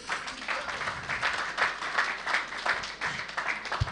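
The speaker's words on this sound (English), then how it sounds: "Please, a round of applause for him." Audience applause at a Lagos town hall meeting, a steady wash of many hands clapping at moderate distance, sustained throughout without speech.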